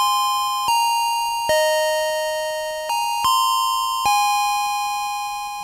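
Westminster chimes play on an electronic school bell, six sustained bell-like tones stepping through the familiar melody, each ringing out and decaying before the next, clear and alone.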